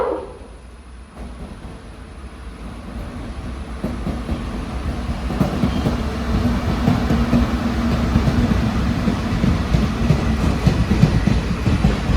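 Passenger train on Kerala's Ernakulam-Thrissur route rumbles past close by, its wheels clattering in a steady clickety-clack that swells gradually louder over a broad, continuous roar, with no voices.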